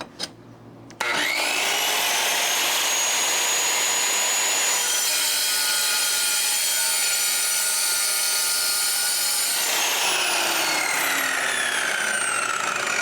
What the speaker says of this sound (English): You do that by making multiple cuts all the way down to your mark so that you can loosen the tile